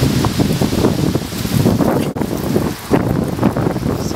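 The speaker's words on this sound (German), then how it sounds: "Und es ist sehr, sehr stürmisch, wie ihr jetzt wahrscheinlich hört" Stormy autumn wind buffets the microphone outdoors, a loud, continuous low rumble with gusty flutter and only brief lulls, and no speech over it.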